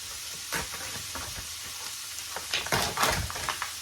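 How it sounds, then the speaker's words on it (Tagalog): Bacon sizzles in a frying pan over medium heat, a steady crackling hiss broken by occasional scrapes and clinks of stirring. "I-fry na natin yung bacon, guys."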